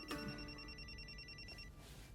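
A new cell phone rings indoors, a faint repeating electronic ringtone with pulsing tones under a low background hum, stopping after about a second and a half.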